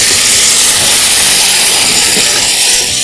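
Tomato puree for tomato rice frying in a hot pan produces a loud, close, continuous hissing sizzle that holds steady for the whole stretch.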